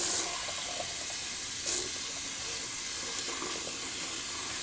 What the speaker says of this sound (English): I'm just going to rinse out my bowl.